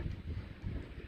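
Gusty wind buffets the microphone in a steady low rumble with uneven surges, loud and close, with no one talking.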